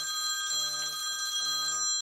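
Mobile phone ringing in a home craft setting, an electronic tonal ring in two bursts with steady high tones, moderately loud and without speech.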